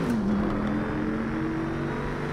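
Race car engine in Project Cars 3 played in VR on a Thrustmaster T300 wheel with TH8A shifter, a steady droning engine tone gliding slightly in pitch under broadband road noise, loud and continuous without talk.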